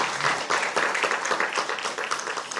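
A church congregation applauding during a worship service, steady dense clapping throughout at moderate loudness.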